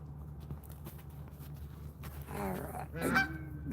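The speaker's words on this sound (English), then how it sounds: "The goose is always hungry." A goose gives a couple of loud, close nasal honks near the end, preceded by soft footstep-like thuds and a low steady background hum.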